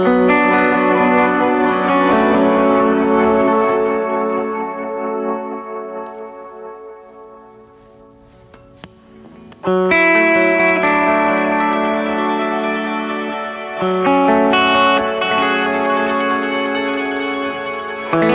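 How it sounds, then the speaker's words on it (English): A Hologram Microcosm pedal throwing out glitchy octave effects, loud layered guitar tones with stuttering repeats that fade to near silence midway, then surge back in bright and dense. "more traditional hologram microcosm sounds that kind of do the cool glitchy"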